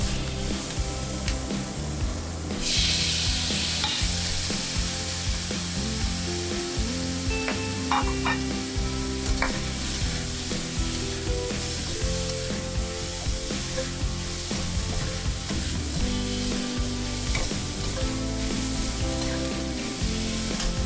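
Diced chicken and blistered green peppers sizzle loudly in a hot wok, with constant frying hiss, repeated clanks and scrapes of a spatula tossing the pieces, and a sudden burst of louder spitting as something hits the oil.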